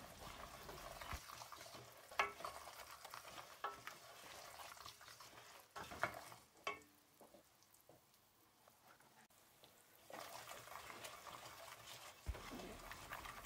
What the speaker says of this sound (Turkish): cevizi ekledikten sonra sürekli karıştırarak kavurmaya devam edelim